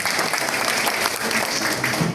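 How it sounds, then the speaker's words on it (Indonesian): An audience at an opening ceremony for an Islamic institute applauds, a dense, steady clapping that fills the whole moment without a pause. "Tepuk tangan untuk Pak."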